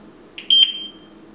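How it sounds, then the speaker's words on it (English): A single sharp electronic beep, short and bright, then quiet, from a Frontpoint security control panel. "You heard the beep."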